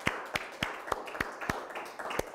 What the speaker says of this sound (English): could I just have a quick round of applause for my wonderful guests